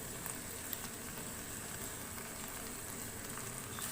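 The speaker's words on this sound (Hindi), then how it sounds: "अब हम इसके अंदर हाफ कप दही ऐड करेंगे जिसको मैंने अच्छी तरह से फेंट लिया है।" Whisked yogurt stirred into minced meat frying in a pan, giving a steady, loud, even sizzle and hiss that runs throughout with faint stirring scrapes and no talking.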